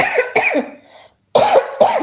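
Four sharp coughs in two quick pairs, close and loud, separated by a brief pause.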